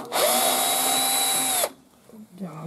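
A power screwdriver whirs while backing a screw out of the front panel of an Indesit washing machine, one sustained high-pitched motor whine lasting about a second and a half, close and loud, then stopping into quieter handling sounds.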